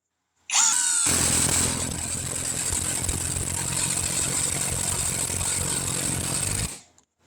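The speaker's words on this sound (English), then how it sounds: "now we're going to take it with the Torx bolt, the Torx screw here" A SCANS 20V brushless impact driver runs a Torx screw in one continuous loud burst of about six seconds, a steady buzzing whine with rapid hammering, then cuts off abruptly.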